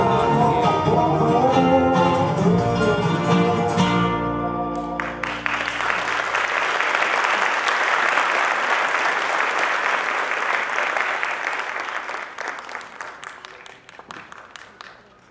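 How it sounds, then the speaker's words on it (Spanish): Music plays at the start, then an audience breaks into loud, sustained applause that fills the room for about ten seconds and slowly fades toward the end. "¡Un gran aplauso!"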